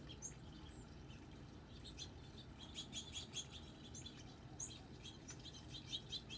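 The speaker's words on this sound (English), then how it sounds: "Enjoy the birds, the sound of the birds." Small birds chirp and tweet in a park, scattered short calls over a steady low outdoor hum, faint and fairly distant, with insect-like buzzing mixed in.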